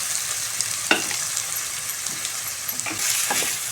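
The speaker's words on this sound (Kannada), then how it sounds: "2 ಟೊಮೊಟೊ ತೊಗೊಂಡಿದ್ದೀನಿ, ಅದನ್ನು ಹಾಕ್ಕೊತಾ ಇದ್ದೀನಿ. ಹಾಕಿ ಚೆನ್ನಾಗಿ ಫ್ರೈ ಆಗಲಿ." Tomatoes, chillies and sugar fry steadily in a hot pan, a continuous bright sizzle with a few spatula scrapes and clicks against the metal, heard up close with no talking.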